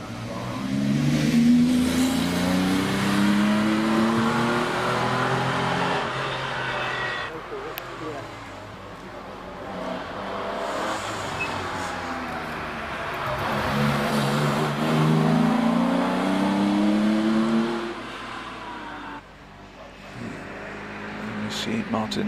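A 1400cc turbocharged mid-engined rear-wheel-drive Renault 5 Turbo 2 rally car climbing the Prescott hill climb, engine revving and pulling hard through gear changes, rising and falling in pitch under a commentator's voice throughout.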